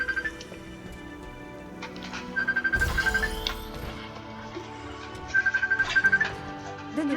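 A telephone ringing inside the video game Halo Infinite, with short warbling electronic ring bursts repeating at intervals over a low game ambience and some clicking effects, and no talk heard.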